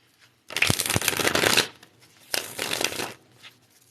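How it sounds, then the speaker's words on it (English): A tarot card deck shuffled by hand in two quick, close riffling bursts separated by a short pause. "Let's get one more shuffle on this tarot deck"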